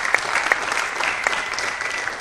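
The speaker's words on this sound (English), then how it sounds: "Big round of applause to Daniel for refereeing" Applause from a small audience at a squash event, steady clapping with a few sharper claps standing out, lasting a couple of seconds.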